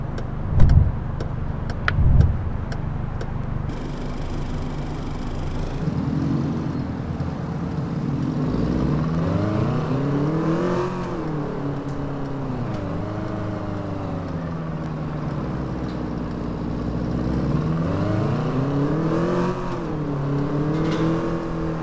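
A Range Rover Evoque speeds along in the racing game Taxi Sim 2020, its engine revving and rising through gears in repeated swells, loud and steady, following a couple of thumps at the start.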